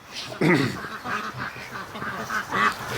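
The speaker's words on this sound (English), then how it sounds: "Let's let the ducks out of the pen." Muscovy ducks being let out of their pen give several loud, close quacks and honking calls, bunched at the start and again near the end.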